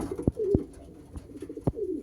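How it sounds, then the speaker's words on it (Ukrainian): A racing pigeon coos at the loft, a few soft, low throaty calls with brief gaps, close and clear, with faint taps between. "ось ця голубочка в мене прилетіла"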